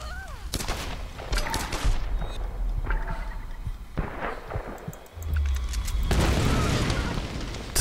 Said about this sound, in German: Ich schieß jetzt mal in die Wand.